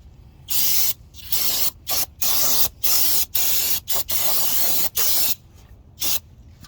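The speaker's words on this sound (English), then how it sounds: "One more spray." Brake fluid cleaner sprayed from an aerosol can onto a greasy wheel spindle, in about nine sharp hissing bursts of varying length with short gaps between them, close and loud, no talking.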